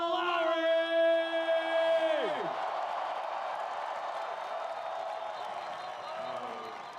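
A big outdoor crowd at the Toronto Raptors championship parade roars and cheers for Kyle Lowry, a loud, sustained wash of voices with whoops, starting just as an announcer's amplified voice rings out and drops away.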